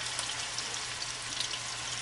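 Meatballs frying in hot oil in a pan, a steady soft sizzle and crackle, faint and continuous with no talking.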